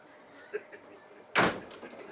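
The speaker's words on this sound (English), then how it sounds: "You gonna close my door?" A door is closed with one sharp thud near the end, preceded by faint shuffling and small noises in a quiet room.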